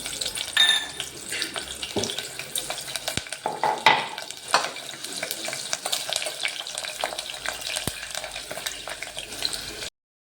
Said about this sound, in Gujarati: તો આપણે જે મરચાં લીધા છે પહેલાં તળી લેશું